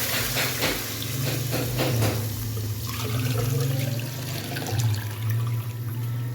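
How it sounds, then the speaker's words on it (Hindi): About 1.25 litres of water poured into a pot of fried chicken for soup, a close, loud continuous gushing splash that wavers in strength throughout, with no voices. "तो अब इसके अंदर ये शामिल करूँगी मैं पानी।"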